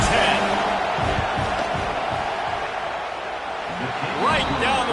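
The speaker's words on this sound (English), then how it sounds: "This crowd trying to do its part to get inside the kicker's head." Football stadium crowd at Michigan at Ohio State roaring during a field goal attempt, a dense sustained wall of cheering and yelling with a whistle-like shriek near the end.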